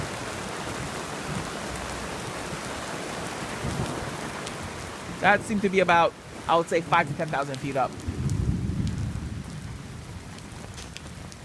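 Heavy rain pours steadily during a severe thunderstorm in Miami, with a low rumble of thunder late on; someone talks briefly in the middle over the constant hiss of rainfall.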